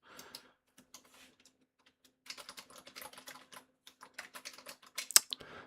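Rapid, uneven keystrokes clatter on a computer keyboard during game-development work, with a short pause and then a denser burst of clicks, fairly close and clear, with no talking.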